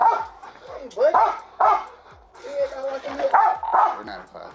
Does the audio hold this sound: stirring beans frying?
no